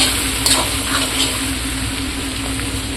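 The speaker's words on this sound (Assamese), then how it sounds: "এতিয়া এনেদৰে ভাজি ল'ম আকৌ 10 মিনিটমান সময়।" Chicken pieces and potatoes for a broiler chicken curry fry in a pan with a steady, close sizzle and faint stirring scrapes, no talking.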